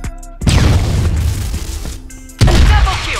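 A grenade explodes in a shooter video game with a loud, deep boom, followed by a second heavy blast about two seconds later amid game music tones.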